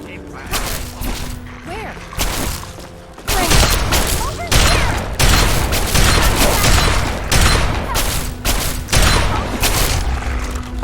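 Gunfire erupts in modded Fallout 3 on PC: after a quieter start with a person talking, a burst of loud, repeated shots and thumping impacts begins and keeps going in rapid, uneven volleys, close and dominant.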